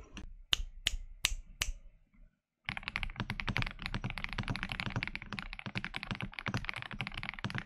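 A few isolated clacks of a stock Royal Kludge R75 mechanical keyboard, a brief silence, then rapid continuous typing with crisp, dense keystrokes up close.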